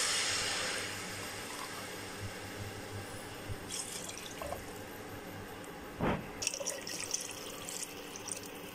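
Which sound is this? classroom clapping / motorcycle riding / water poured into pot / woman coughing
water poured into pot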